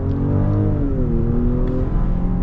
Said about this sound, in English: And then here's full throttle.